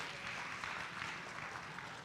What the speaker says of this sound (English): So a big round of applause to all these young people for coming up here and presenting.